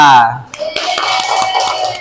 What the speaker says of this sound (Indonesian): Tepuk tangan buat Lala.